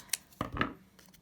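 Scissors trimming paper puppet fingers, a few quick crisp snips and rustles, close and quiet, with no talking.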